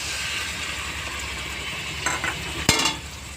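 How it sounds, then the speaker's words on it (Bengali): Spices, ground peanut paste and tomato sautéing for a vegetarian soybean curry, a steady soft sizzle with a couple of sharp utensil scrapes and clinks near the end. "সব একবারে দিয়ে ভালো করে কষিয়ে নেব"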